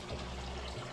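Water gushes steadily as it is poured out of a hydroponics fish tank onto a garden compost area, a continuous close splashing rush lasting about a second.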